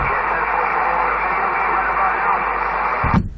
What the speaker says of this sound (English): we have really bad atmospheric static and noise levels